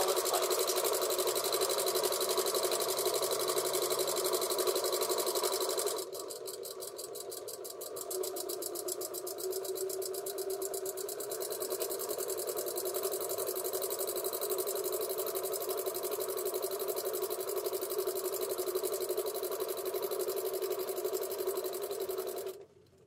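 A sewing machine runs steadily while stitching a quick and easy baby blanket with curved corners, its fast mechanical whir continuous and close, with a brief shift in pitch partway through and no voices.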